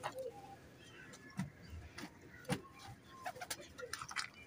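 Pigeons coo softly in a quiet loft setting, with several low, rounded calls spaced irregularly and faint chirps and distant traffic behind them.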